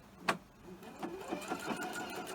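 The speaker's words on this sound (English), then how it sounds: "So I can actually use reverse while I'm sewing" A Husqvarna Viking sewing machine stitching along with a multi-function foot control, giving a faint rhythmic series of needle clicks and motor hum after one sharp click at the start.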